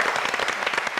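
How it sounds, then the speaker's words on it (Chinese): Applause from a studio audience on a Taiwanese TV game show breaks out as brisk, dense clapping, loud and continuous over a brief moment. "掌声鼓励"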